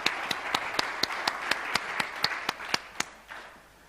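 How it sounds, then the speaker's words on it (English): Audience applause at an education-technology conference stage welcoming an investor panel: a scattered round of clapping with a few sharp, regular claps standing out, steady for about three seconds before tapering off. "Please give a warm round of applause for these guys."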